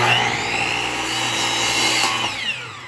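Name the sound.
miter saw cutting wood for picture frame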